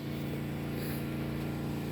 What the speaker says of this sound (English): I've got a generator going